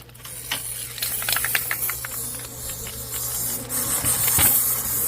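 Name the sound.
spray adhesive being sprayed to seal a bee box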